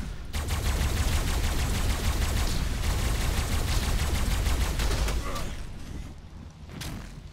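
Rapid turret gunfire in ARK during a duo PvP raid, a dense continuous stream of shots for about five seconds before it tapers off into quieter scattered noise.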